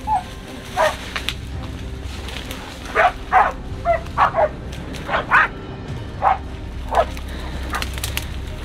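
Hunting dogs bark during a boar hunt, about ten short loud barks and yips spread unevenly across the clip, fairly close, over a steady outdoor background with faint birds.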